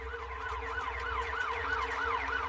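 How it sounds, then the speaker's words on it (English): An emergency siren wails in a fast, steady up-and-down cycle, moderately distant and clear, repeating evenly with no voices present. "he hears sirens approaching"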